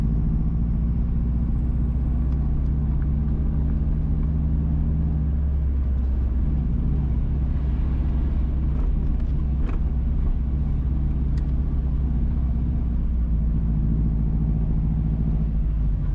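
A car driving along a rural road near Huddersfield, St Mary, Jamaica, a constant low engine and tyre rumble heard from inside, steady and fairly loud with no talking.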